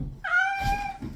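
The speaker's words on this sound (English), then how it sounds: "My cat." Evie, a pet cat, gives a single drawn-out meow close by. It rises and then trails off over low room rumble, with no voices.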